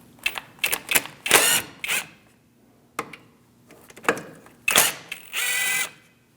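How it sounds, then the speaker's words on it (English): A 7mm Allen wrench works brake caliper slide pins loose on a 2000-2006 Mini Cooper, giving bursts of ratcheting, clicking metal turns separated by short pauses, close up with no talk. "Using a 7mm Allen wrench, we're going to remove our slide pins."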